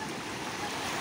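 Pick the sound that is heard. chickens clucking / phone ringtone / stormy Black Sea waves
stormy Black Sea waves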